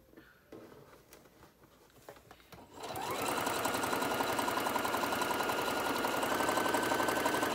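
A sewing machine stitches a Christmas pillow case, starting up after a few quiet seconds of faint handling noise and then running steadily and fast, close and loud, to the end.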